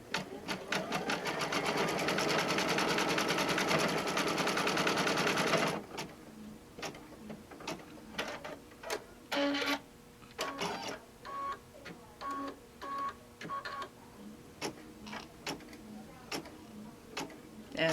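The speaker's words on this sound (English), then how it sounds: "And it's going to take about 1 minute to sew this out, so it's no big deal." Embroidery machine sewing a zippered pouch design in the hoop: a dense continuous needle rattle for several seconds, then stops and gives way to short separate bursts of stitching and ticking as it jumps between sections.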